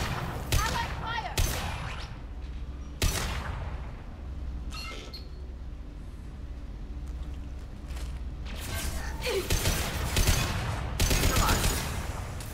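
Gunfire from the video game Mass Effect 2 crackles in repeated loud bursts and volleys, with sharp cracks scattered throughout and denser shooting toward the end.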